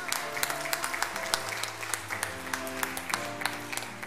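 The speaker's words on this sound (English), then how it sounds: "let's get the Lord one more hand clap of praise." A church congregation at a Sunday Baptist service claps their hands in praise, with distinct, fairly regular claps over a sustained musical tone.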